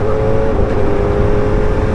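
Superbike engine droning steadily at 8,000 RPM while cruising at 80 mph, a loud continuous whine with wind rush during a brief ride.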